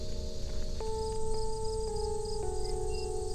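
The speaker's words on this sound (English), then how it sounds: "Crickets." Crickets chirp in a steady, continuous trill outdoors, with a few brief tonal whistles or chirps layered over a low background rumble; no one speaks.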